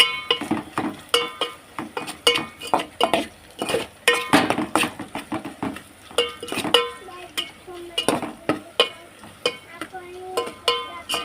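Spoon stirring okra with turmeric and salt in a pot, a steady series of scraping, clinking strokes against the metal, close and fairly loud over a soft background hiss.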